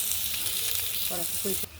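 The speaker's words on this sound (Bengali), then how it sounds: "আমি হালকা করে পটলগুলো ভেজে নেব" Pointed gourd (potol) fries lightly in oil, producing a dense, close sizzle that runs almost the whole time, with a faint tonal scrape or clink near the end before the noise drops off abruptly.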